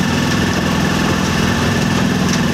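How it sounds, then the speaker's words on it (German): The starboard engine of a sailboat under sail runs at 2500 rpm, a loud, steady mechanical drone with a constant low hum and rattle that fills the whole stretch without a break. "Wir haben die Drehzahl ein bisschen von der Steuerbordmaschine erhöht auf 2500 Touren"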